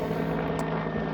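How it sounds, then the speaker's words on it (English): A helicopter passes overhead, its steady rotor and engine drone filling the short stretch at a constant level with no voices. "There's a helicopter."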